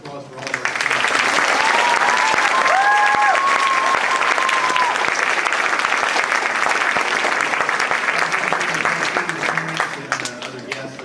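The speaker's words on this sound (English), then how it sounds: "let's give another round of applause for all of our students." An audience at a 5th grade school awards ceremony gives the students sustained, loud applause. Dense clapping fills the room for about ten seconds, with a voice speaking briefly over it near the start.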